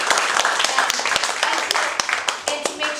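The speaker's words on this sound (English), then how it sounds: "I want to make sure that we give him a round of applause" An audience at a cybersecurity talk gives a round of applause: crisp, overlapping handclaps, close and lively, continuing throughout with a few louder individual claps near the end.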